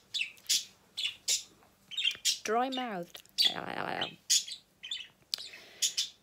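Pet birds chirp and squawk in a cage at home, giving short bright repeated calls close by, with a brief spoken remark in between.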